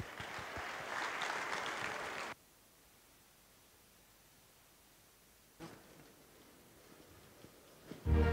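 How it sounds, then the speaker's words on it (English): At a college concert, an audience claps for performers in a short burst of applause that stops abruptly, followed by quiet room hiss and a fainter second patch of clapping. "Can we please give them a welcoming round of applause?"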